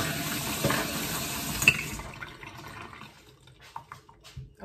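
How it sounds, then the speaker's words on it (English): Tap water runs into a kitchen sink while hands are washed, with a steady splashing rush that stops after about two seconds, followed by faint drips and small clatters. "Let me wash my hands because I'm that person who don't like a lot of stuff on their hands."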